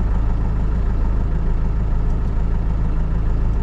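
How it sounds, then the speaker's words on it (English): A Kubota HST tractor under remote control runs with a steady, loud, low diesel idle, its engine rumble continuous and unchanging throughout. "And now move joystick up, it will start the tractor"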